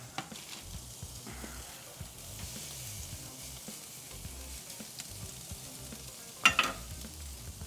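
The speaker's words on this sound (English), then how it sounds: "look at that sizzle, Yazzo." Pork chops sizzle on a grill with a faint, steady crackle and hiss at low volume, a couple of sharper pops standing out near the end.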